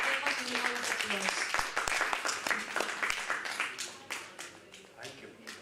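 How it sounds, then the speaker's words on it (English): Audience applause at a management conference, a steady patter of many hands clapping that gradually thins out, with a voice speaking over it. "Let's give them a few rounds of applause."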